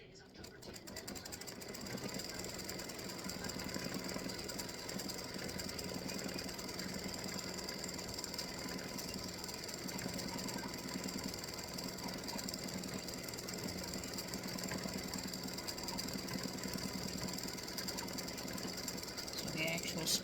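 An embroidery machine satin stitches around the outside of a freestanding lace oak leaf, a steady fast rhythmic mechanical chatter running continuously and fairly loud throughout.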